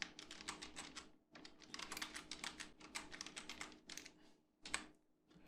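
Rapid, steady clatter of computer keys being typed, close up, with a couple of brief pauses between bursts and no talking.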